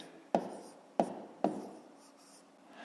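Three sharp pen strokes tap and scratch on paper as numbers are written by hand during a math exercise, each one crisp and close, with quiet scratching in between.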